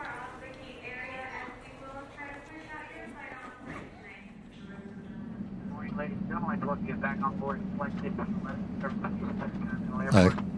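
A steady low engine rumble from an ordinary jet airliner during boarding swells partway through and continues under nearby voices, with a brief sharp clatter near the end.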